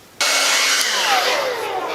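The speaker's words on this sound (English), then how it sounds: "get my blow dryer on the job" A handheld blow dryer switches on and runs at a steady, loud, close roar while drying a full synthetic wig, continuous with no talking.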